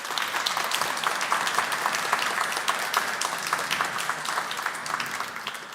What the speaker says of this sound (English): I would be very happy if you would join me and doing an applause for our panelists here